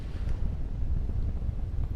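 A strong northwest wind rushes past the microphone during a paragliding flight on the Brittany coast, a steady loud roaring buffet with no talking.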